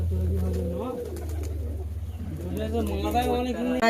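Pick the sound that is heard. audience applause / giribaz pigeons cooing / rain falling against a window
giribaz pigeons cooing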